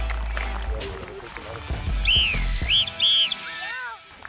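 A football referee's whistle shrills in several short blasts during a match, clear and fairly close over crowd noise, shouting and running on the pitch.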